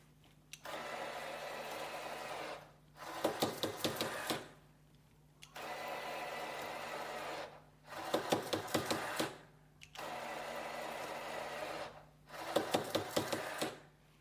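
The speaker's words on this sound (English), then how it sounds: "let's start with the baseline of our 312 RPM motor here." A 312 RPM motor drives a linear slide back and forth, giving repeated cycles of steady whirring broken by short bursts of clicking rattle about every three seconds, close and clear with no talk.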